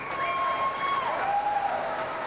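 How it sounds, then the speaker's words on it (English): Crowd applause for a good rack during a $50,000 pool match between Efren Bata Reyes and Hsiao-Lang Fang, a soft, even wash of clapping with a faint tonal whistle running above it. "Crowd appreciative of a very good rack at a tough time"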